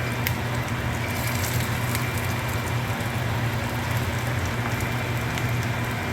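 Veg manchurian balls fry in hot oil, giving a steady, dense sizzle and crackle throughout with no voices.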